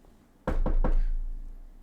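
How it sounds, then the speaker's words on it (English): Three quick knocks on a wooden surface, close and fairly loud, evenly spaced within about half a second, with a low hum continuing underneath. "knock on wood"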